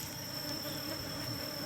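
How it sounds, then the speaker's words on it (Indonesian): Honeybees buzzing around a hive and cultivation box, a steady close insect drone with a thin sustained whine, heard alone. "Ini sekarang kita biarkan saja lebah yang ada di adah ini, nanti dia akan berbondong-bondong masuk ke kotak budidaya ya teman-teman."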